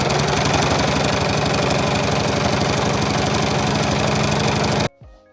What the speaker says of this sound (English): So I am going to sew along this line here and keeping the bottom part open.